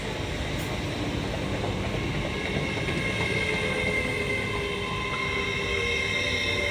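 Class 801 unit 801223 passes through Grantham station on the East Coast Main Line, a steady loud rumble and rail roar held close throughout, with no talk over it.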